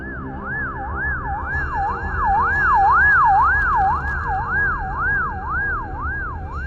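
A cartoon ambulance siren wails in a steady, fast rising-and-falling loop, loud and close, with faint car noise underneath and no voices.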